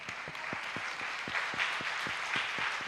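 A church congregation at a Sunday service applauds, steady rhythmic clapping from many hands in unison, fairly even and continuous throughout.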